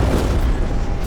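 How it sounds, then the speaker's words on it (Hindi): Ammonium nitrate explosion in Beirut, 2020: a loud, broad rumbling boom that fills the whole second with a dense roar and no distinct onset or fade. "अचानक एक धमाका हुआ।"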